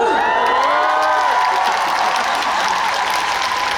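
An outdoor audience at the Busan International Film Festival cheers and applauds in a dense, unbroken roar of clapping and shouts throughout, loud and close.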